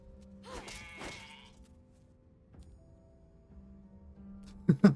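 Sheep bleating in the video game Divinity Original Sin 2: a couple of wavering bleats close together near the start, then quiet ambient game sound and a sharp loud impact at the end.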